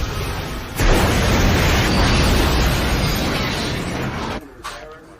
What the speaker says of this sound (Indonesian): akibat ledakan yang terjadi, listrik di rumah sakit ini pun mati total